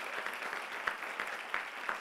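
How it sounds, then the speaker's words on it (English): Audience applause at a digital rights organization's opening event, steady moderate clapping with a few sharper individual claps standing out, fairly distant and without talking. "A great round of applause for our brilliant chair"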